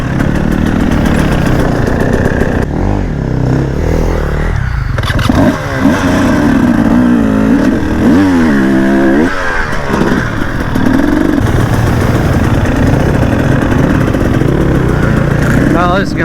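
A KTM 300 dirt bike runs through a forest on a fall enduro ride, its engine droning steadily and close, with a few rising and falling revs partway through. Louder engine noise and wind fill the rest.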